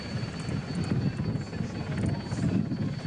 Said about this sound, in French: c'est superbe cette image avec notre hélicoptère qui est très très haut